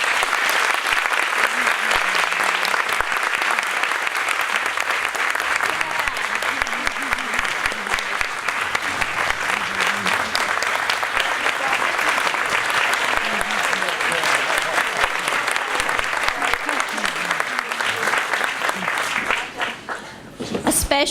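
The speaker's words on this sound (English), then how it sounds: "let's just give them a round of applause" A large audience at an awards gala gives a long, steady round of applause lasting about twenty seconds, dense and even throughout before dropping off at the end.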